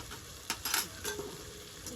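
A utensil stirs tomato and rohu fish in a pan with a few soft scraping and clinking strokes over a faint background sizzle, quiet and close.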